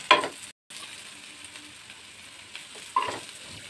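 Onions fry in a pan for a Bengali-style brinjal curry, giving a soft, quiet sizzle broken by two brief stirring scrapes near the start and end.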